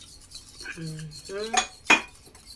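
A utensil stirs a beaten egg and water mixture in a bowl for a spring onion pancake, giving a few scraping swirls and two sharp clinks against the side.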